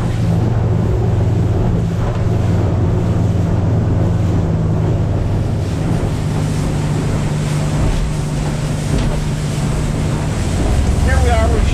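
A Reflex Reef Runner boat motors into wind and current, its steady low engine drone running under continuous wind buffeting and water wash, close and loud throughout.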